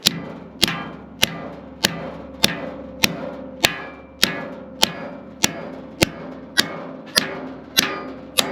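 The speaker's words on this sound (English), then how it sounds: "So I put the piece back in the brake, clamped it, and I'm going to tap it down." A piece of sheet metal clamped in a brake is tapped down with a hammer: about fourteen sharp, ringing metallic strikes at an even, unhurried pace, close and clear with nothing else over them.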